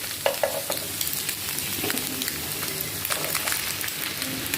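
Eggs frying in a pan with snake gourd (chichinga), a steady close sizzle with scattered crackles and stirring scrapes throughout, no voices.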